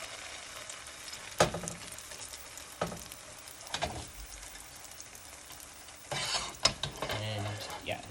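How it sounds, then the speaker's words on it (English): Soft, steady sizzling of cinnamon kudla pancake batter in a hot frying pan, with a few clinks and scraping stirs breaking through the quiet frying hiss. "see that sizzle?"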